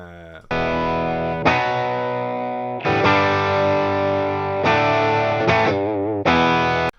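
Electric guitar played through a Vox amp with a clean boost pedal switched on, ringing out in several loud sustained strummed chords with short gaps between them, no talking.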